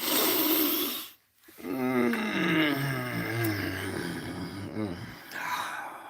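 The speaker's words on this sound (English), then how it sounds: "Sometimes I'll even groan or moan on the exhale of that." Deep groaning moans on the exhale, as in a slow breathing exercise, spoken in a gliding, voiced tone. One long descending groan follows a brief pause, then further breathy moaning, all close and alone.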